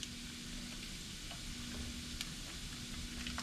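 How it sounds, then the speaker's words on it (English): Old Folks sausage sizzles steadily in a pan and gets stirred around like hamburger meat. A constant close frying hiss runs throughout, with a few small ticks and scrapes from the stirring and no talking. "I'm just gonna put a little bit in here and stir it around like hamburger meat."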